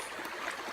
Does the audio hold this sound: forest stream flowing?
yes